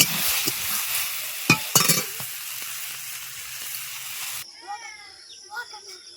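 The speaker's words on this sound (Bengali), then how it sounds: "সব কিছুই তো ভাজা হচ্ছে, ভাজা নিয়ে।" Vegetables sizzle and hiss as they fry in a pan, with a few sharp stirring clatters. Then the frying cuts off into a quieter background with brief voices.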